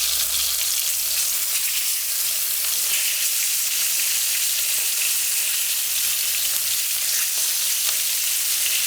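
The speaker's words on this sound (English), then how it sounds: "After 1 minute, rotate the fish to ensure that you get an even fry." Coconut-coated fish frying in hot oil gives a loud, steady, dense sizzle that holds unbroken throughout, close up and with no voices.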